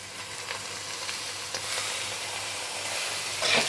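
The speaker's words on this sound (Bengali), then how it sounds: "এবারে নাড়া দিচ্ছি দেখো কড়াইতে" Okra fries in a kadai with water instead of oil, giving a close, steady sizzle and hiss with a spatula scraping and stirring through it, moderately loud with no talk.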